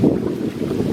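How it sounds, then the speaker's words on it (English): Strong wind gusting across a river, a loud, close rumble of buffeting roar battering the microphone, continuous for the whole second with no voices. "So all of a sudden, it got very windy."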